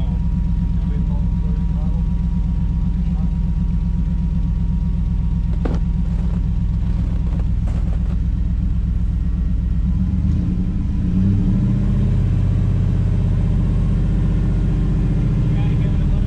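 A truck engine rumbles loudly and steadily, then its tone shifts and swells as the throttle is pressed, with voices talking around it.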